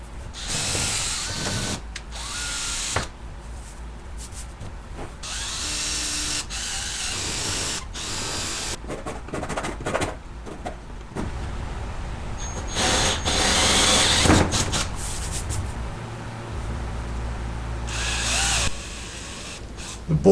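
A power drill bores into thin 3/16 particle board for new door panels on a Buick Skylark, with several bursts of whirring, biting drilling separated by pauses and handling clatter.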